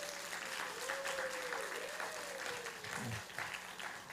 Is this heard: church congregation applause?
yes